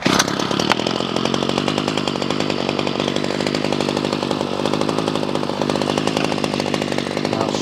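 Ryobi CS26 two-stroke string trimmer engine idles at a raised speed, a close, steady buzzing putter with rapid regular firing pulses that continues throughout.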